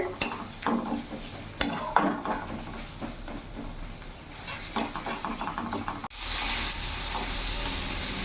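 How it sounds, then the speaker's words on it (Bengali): Spice paste stir-fried in oil for a bhola fish masala curry: close spatula scrapes and stirring over a soft sizzle, ending in a loud, steady hiss for the last two seconds. "মশলাটা আমি কিছুক্ষণ কষিয়ে নেবো যতক্ষণ না মশলা থেকে তেল ছেড়ে দিচ্ছে"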